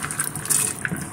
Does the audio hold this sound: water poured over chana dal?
yes